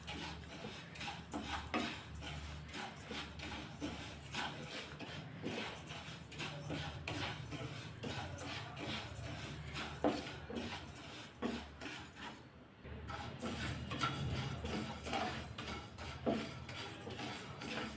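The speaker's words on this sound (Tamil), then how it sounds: "இப்போ இந்த அரிசியை நல்லா கருக விட்டுறாமல் நல்லா பொரிச்சு எடுத்துக்கலாம்." Washed, sun-dried raw rice is dry-roasted in a pan over a medium flame for a traditional rice sweet, giving a close, steady gritty rustle and scrape as the grains are stirred in rhythmic strokes, with one brief pause partway.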